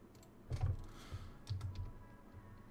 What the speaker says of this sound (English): Keyboard again.